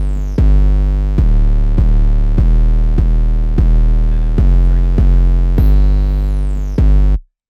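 Two layered 808 bass notes in an ambient trap beat hit together in a steady rhythm, roughly ten deep booming strikes with long sustained tails, loud and alone without any talking.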